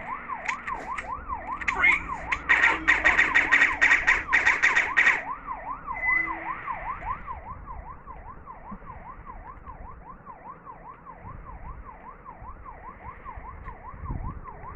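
A police siren in Grand Theft Auto, wailing in a steady, rapid rising-and-falling cycle at moderate distance, with louder game sounds in the first few seconds, then continuing alone.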